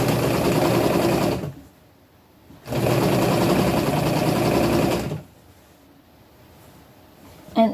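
A sewing machine stitches knit fabric in two steady close runs, each a few seconds long, separated by a short quiet pause, with a brief final clunk.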